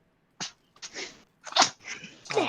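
A sneeze bursts out close and loud, with a few sharp breathy bursts and snuffles scattered across a couple of seconds and no talk.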